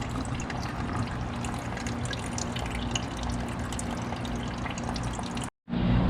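Coolant drains steadily from a Honda Civic radiator into a pan, a continuous close splashing pour that holds level for several seconds before cutting off abruptly.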